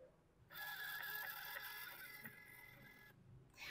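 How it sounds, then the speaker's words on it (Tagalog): Bluetooth receipt printer at a gasoline station runs for about two and a half seconds of continuous close whirring and buzzing as paper feeds, starting and stopping abruptly in a quiet room. "Automatically po, magpiprint naman ang ating Bluetooth printer for the receipt."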